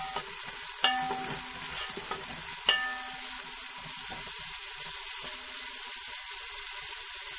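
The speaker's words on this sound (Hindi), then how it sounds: "अब प्याज को ब्राउन कर लेंगे।" Two large chopped onions sizzle steadily in a pan as they brown, a continuous frying hiss broken by a couple of sharp utensil clinks near the start.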